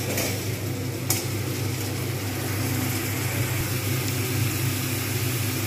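Onions frying in oil for a katla fish curry give a steady soft sizzle throughout, with a low background hum and a faint clink near the start.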